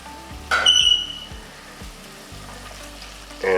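Diced tomatoes dropped into a pan of cooked onions for lasagna sauce give a sudden loud sizzle, which settles into a quieter steady frying hiss with faint stirring knocks.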